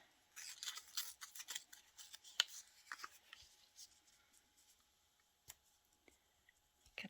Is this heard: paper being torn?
yes